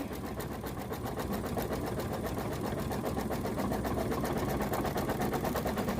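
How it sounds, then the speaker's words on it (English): An embroidery machine stitches a satin border around a shamrock coaster in the hoop, a fast, even, continuous mechanical whirring and needle clatter, close and steady with no voices. "now it's going to do the satin all the way around"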